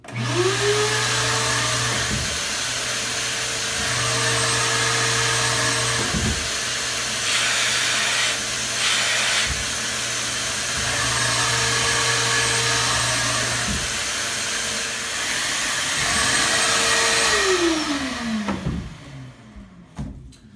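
A shop vac motor hums steadily for about eighteen seconds inside a sound-reduction cabinet, muffled and enclosed, with a low drone beneath a hissy whine, then winds down to silence.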